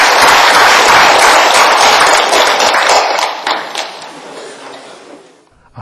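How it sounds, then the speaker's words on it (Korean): A hall audience claps warmly to welcome a speaker, retired general Park Kyung-seok. The dense, loud applause holds steady, then thins and fades to near silence at the end. "여러분 뜨거운 격려의 박수 부탁합니다."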